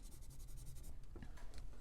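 Pencil scratching across paper while a portrait is drawn, a steady run of close, soft rubbing strokes with a few brief sharper marks near the end.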